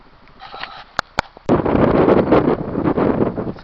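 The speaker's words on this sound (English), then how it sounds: "It's pretty windy out here" Strong wind buffets the microphone on an exposed mountain trail during the final climb to West Baldy, a few soft rustles and sharp clicks at first, then loud, steady roaring gusts take over and continue to the end.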